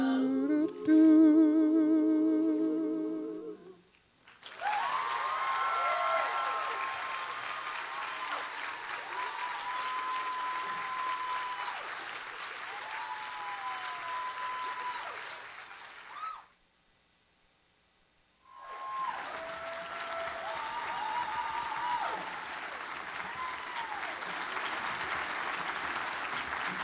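Audience applause for student musicians at an arts marketing conference keynote, a sustained wash of clapping that swells, cuts out briefly to near silence, then resumes just as full.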